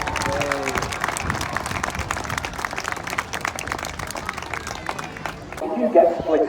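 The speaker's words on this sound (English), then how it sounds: "Give him a nice big cheer, ladies and gentlemen." Crowd applauding and cheering at the Southport Airshow 2022, a busy mix of clapping with voices talking over it, close and continuous before a brief shift near the end.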